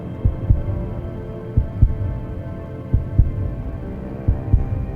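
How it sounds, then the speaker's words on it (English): A steady heartbeat from the video game Deus Ex: Human Revolution, heard as repeated paired low thumps in an even rhythm over a continuous low hum, with no talking. "So you should be hearing a heartbeat while I choose a picture."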